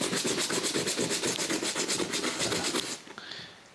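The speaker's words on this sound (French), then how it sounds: "je repasse à la brosse, mais avec un tout petit peu d'eau." A brush scrubs a damp Red Wing leather boot in quick, steady back-and-forth strokes, a close, even rasping rhythm that stops short near the end.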